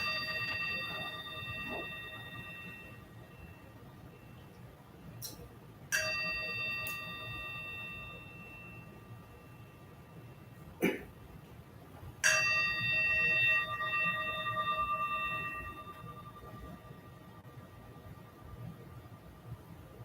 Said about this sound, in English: As the sound of the bell fades